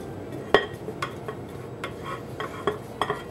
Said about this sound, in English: And then I'll just mix it again until it's combined.